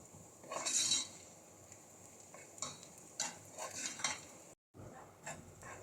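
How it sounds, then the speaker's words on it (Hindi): Gram flour (besan) roasted over a medium flame with cluster beans in a pan, stirred with scattered scraping clinks of a spoon against the metal, quiet between strokes, with no talk. "बेसन को हम मीडियम फ्लेम पर भूनेंगे।"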